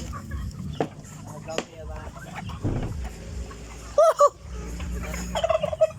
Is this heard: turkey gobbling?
yes